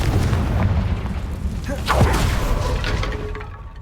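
A Confringo blasting spell explosion in the video game Hogwarts Legacy lands as a booming thud with a whooshing burst over a dense, rumbling game soundscape, loud and close.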